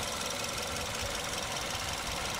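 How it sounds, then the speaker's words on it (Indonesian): A used Suzuki Ertiga's engine idles with the hood open, a constant close mechanical hum and rattle that stays level and unbroken throughout, with no talking. "Di sini mesin posisinya sudah siap, sudah menyala dan sudah dibuka kapnya."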